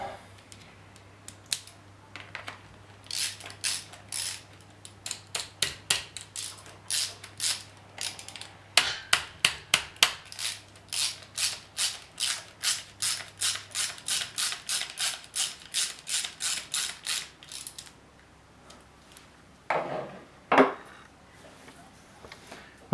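A ratchet wrench with a T30 bit nips up the bolts on the timing chain of a Chevy Cruze 1.4 turbo engine, giving rapid, crisp clicking bursts in repeated runs, close by.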